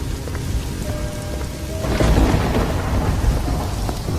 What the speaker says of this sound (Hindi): उस भयानक बारिश वाली रात में बिना रुके चलते